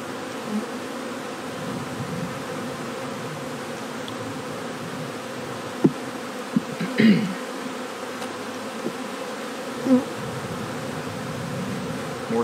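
Steady, dense buzzing of many honeybees close by, with a few brief knocks and rustles over the drone.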